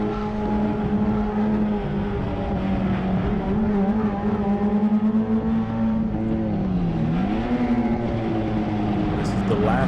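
Race cars at full throttle around the Sonoma circuit in a tire-sponsored event, a loud sustained engine howl rising and falling through gear changes and corners, under steady commentary talk.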